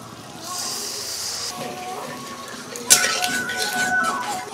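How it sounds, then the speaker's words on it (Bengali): Boiled mung dal is tipped into hot spices in a pan, bringing a sharp hiss and sizzle along with metallic clinks of a utensil against the pan and a brief scraping clatter. "এই সিদ্ধ করা ডালটা মশলার মধ্যে দিয়ে দিচ্ছি।"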